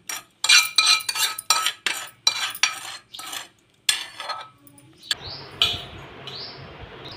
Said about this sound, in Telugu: ఇప్పుడు మనం తయారు చేసుకున్న తాలింపును దీంట్లో వేసుకుందాం.